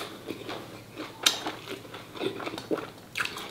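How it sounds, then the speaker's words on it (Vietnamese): Someone bites and chews braised pig's trotter cooked with coconut water, producing close, moist crunches and sticky chewing sounds with a few sharper bites at irregular intervals. "sao mình thích ăn cái kiểu mà mình cầm nguyên cái thì mình cắn nó nè"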